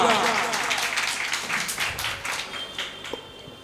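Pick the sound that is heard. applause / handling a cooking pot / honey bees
applause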